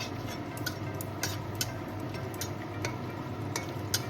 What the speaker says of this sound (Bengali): আর নিয়েছি দুটো শুকনো লঙ্কা, আর এখানে গোটা গরম মশলা। এটা একটু ভেজে নেব।